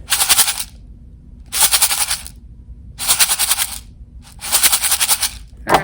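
A homemade shaker, a candy container filled with white rice, rattles in four loud bursts of bright, hissing rattling, each about a second long, separated by short pauses.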